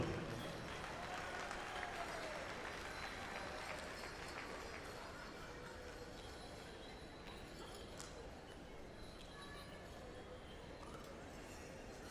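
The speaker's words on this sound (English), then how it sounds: "Give a round of applause for Crazy Spirit, ladies and gentlemen." Faint, distant crowd applause at the 2018 Gathering of Nations pow wow, a steady wash of many hands clapping across a large arena, holding evenly throughout with a low murmur of voices beneath.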